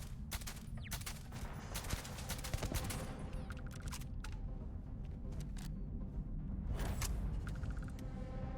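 Automated turrets in Starfield rattle off rapid, crisp bursts of gunfire, dense at first, thinning through the middle, then another volley near seven seconds, with small electronic beeps scattered between.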